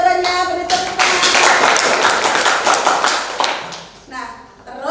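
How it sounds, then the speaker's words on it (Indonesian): A classroom group bursts into applause that swells for several seconds and then fades, with a voice speaking over the start and end. "Beri tepuk tangan."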